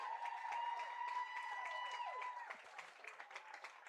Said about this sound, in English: Everybody's cheering and clapping